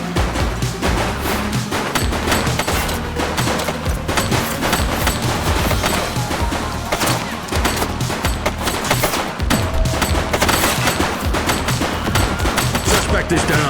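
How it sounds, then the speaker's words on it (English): Dense gunfire from a suspect shooting in The Precinct police game, rapid bursts of shots and impacts rattling almost continuously, loud and close, with shouted voices mixed in. "He's shooting!"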